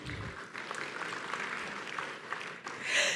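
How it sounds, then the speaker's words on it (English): A moderate round of applause from participants at the closing ceremony of a governors' forum, scattered hands clapping in a hall at medium distance, fading near the end as a brief sharper sound cuts in. "Salve d'applaudissements pour vous-même."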